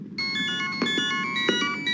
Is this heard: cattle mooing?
no